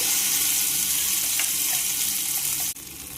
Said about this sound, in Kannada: ಎಣ್ಣೆ ಕಾದೈತಿ. ಒಂದು ಅರ್ಧ ಚಮಚೆ ಸಾಸಿವೆ ಹಾಕ್ತೇನೆ.